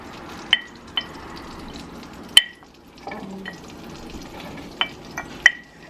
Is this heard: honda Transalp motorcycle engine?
no